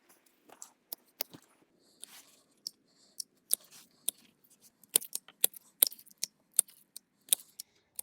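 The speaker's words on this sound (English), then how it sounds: "Christopher and I are just going to go through and cut all of these baby hydrangeas back" Young Annabelle smooth hydrangea stems being clipped back with hand pruners, a run of sharp, close snips at an uneven pace, sparse at first and then quicker and denser toward the end, with no talking.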